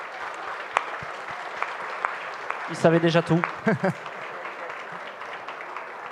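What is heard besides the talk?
conference audience applauding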